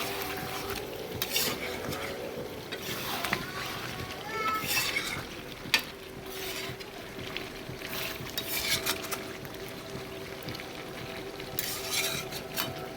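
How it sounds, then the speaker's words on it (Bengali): Chicken curry with potatoes is stirred in a pan, with repeated scraping and clinking of the utensil against the metal over a soft sizzle, close by and continuing throughout, while a voice speaks intermittently. "বেশ ভালো করে নাড়াচাড়া করে নিয়েছি"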